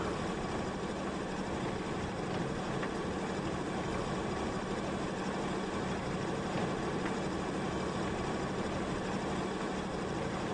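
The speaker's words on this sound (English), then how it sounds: "You hear that? That's the windmill." A windmill in the Farming Simulator 19 game gives a steady, unbroken mechanical drone with a broad noisy hiss, holding at an even level throughout with no voices.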